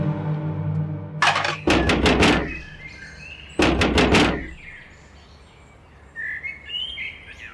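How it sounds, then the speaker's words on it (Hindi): Someone pounding on a house door in two separate bursts of heavy rapid knocks, loud and close, with birds chirping faintly in the background between and after the bursts. "क्यों दरवाजा पीट रहे हो?"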